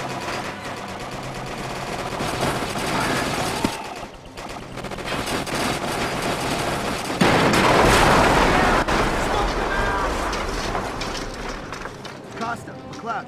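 Machine-gun bursts, rifle fire and booming artillery fill a World War II battle in the Company of Heroes video game, dense and loud throughout, with soldiers shouting orders over the fighting.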